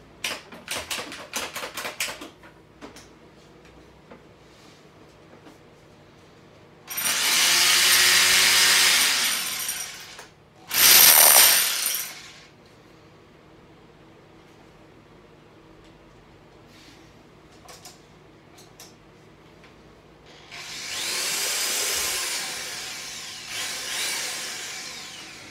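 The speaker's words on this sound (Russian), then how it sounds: "на обзоре перфоратор Makita" Worn Makita HR2810 rotary hammer drill running without a bit in several loud bursts of a few seconds each, separated by quiet pauses, close to the listener.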